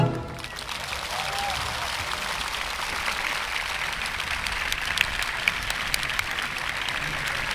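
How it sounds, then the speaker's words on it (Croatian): A concert hall audience claps steadily and without a break as a chamber orchestra walks on, a dense and even wash of applause lasting the whole time. "Kad se prvi čovjek iz orkestra se pojavi, pljesak kreće i ne staje dok zadnji ne uđe."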